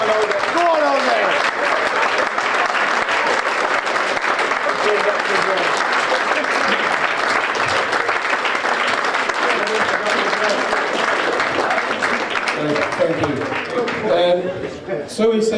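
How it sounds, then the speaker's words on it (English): A long, dense round of clapping fills the hall at a football club's end-of-season presentation night for the standing players, holding steady with crowd voices underneath before thinning slightly at the very end. "let's give them all a round of applause because they deserve it"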